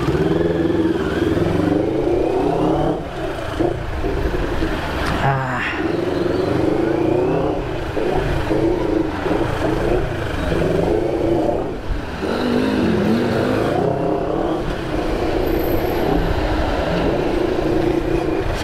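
A sport motorcycle weaves through traffic on a year-end group ride in Irosin, Sorsogon, its engine revving and rising and falling close to the mic over road noise and passing vehicles.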